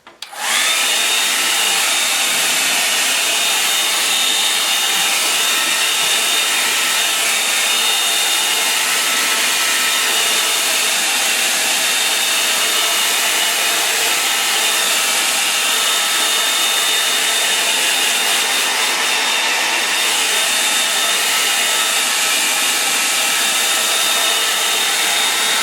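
Hair dryer blowing steadily on acrylic paint, a loud continuous close-up whoosh with a constant tone that runs unbroken throughout and has no talking.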